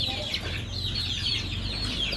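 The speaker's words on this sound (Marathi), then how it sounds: "ओरिजिनल गावठी कोंबडीची पिल्लं आहेत" A dense chorus of two-month-old desi chicken chicks peeps continuously, high and thin, over a low steady background rumble.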